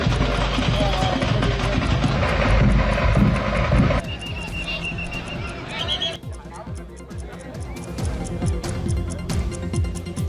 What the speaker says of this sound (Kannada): ಪಿಲ್ಲಹಳ್ಳಿ ಗ್ರಾಮಕ್ಕೆ ಹೆಲಿಕಾಪ್ಟರ್ನಲ್ಲಿ ಆಗಮಿಸಿದರು